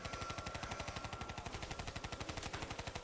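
Rapid continuous automatic gunfire in Black Ops 3 custom zombies, an even rattling stream of shots at a steady fast rhythm throughout, fairly quiet in level and with no talk over it.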